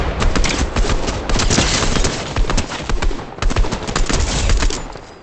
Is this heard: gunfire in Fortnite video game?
yes